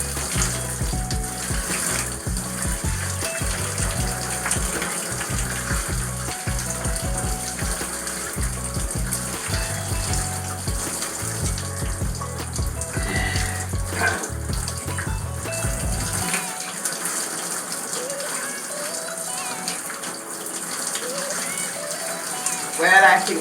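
Shower water running in a home bathroom, a steady loud rush and spatter that continues throughout while the flow changes partway through as the temperature is adjusted.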